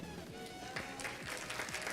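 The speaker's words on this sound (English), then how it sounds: "Clapping for her." Audience applause at an oratory contest event, a steady wash of clapping that stays faint and even throughout.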